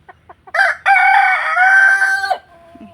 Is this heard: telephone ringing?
no